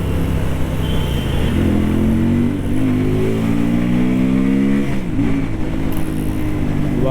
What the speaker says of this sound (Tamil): 300cc இந்த மாதிரி ஒரு எக்ஸாஸ்ட் நோட் எதிர்பார்க்கவே இல்லை